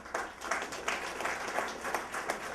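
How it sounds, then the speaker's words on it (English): Audience applause for Sindhu Bhushan and Sindhu Ratna awardees at the Mangalore Sindhi Sammelan, a steady wash of many hands clapping throughout with rhythmic swells, moderately loud and without speech. "we should have a round of applause for the Sindhu Bhushan awardees and the Sindhu Ratna awardees"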